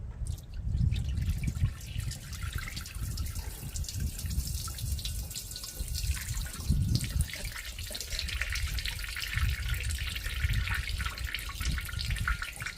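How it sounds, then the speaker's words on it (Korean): Homemade soy sauce poured through a filter to strain out the solids, giving a steady running trickle of liquid that continues throughout without speech. "그렇게 해가지고 이제 간장을 거르겠습니다"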